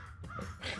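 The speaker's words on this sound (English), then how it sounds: "I got some noisy crows out there." Crows caw outdoors, two harsh calls in quick succession, moderately distant and fairly faint.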